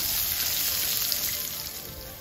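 Ginger and garlic sizzling in hot cooking oil in a pan, a steady bright crackling fry, close and continuous with no talking.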